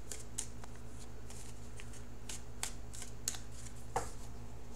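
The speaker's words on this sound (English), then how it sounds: "So I am shuffling for that outcome card." Tarot cards being shuffled in a riffling run of soft papery flutters and light snaps, close and steady over a low room hum, with no talking.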